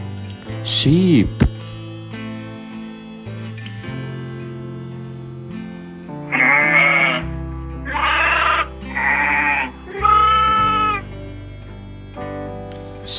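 Four bleats from a sheep, loud and close, come in quick succession over a steady bed of background music, following a short cat-like cry near the start.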